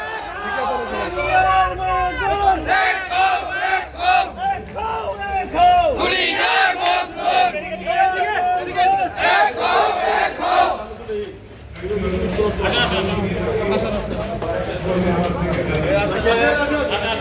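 A protest crowd at a human-chain rally in Dhaka for outsourced and daily-wage workers chants slogans in loud, rhythmic unison, voices surging and falling in repeated call-and-response waves with a short lull before resuming.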